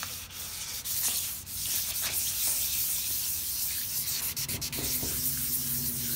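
Hand wet sanding of chipped paint on a car fender, a steady close rubbing scrape with rhythmic strokes that continues throughout, no voices.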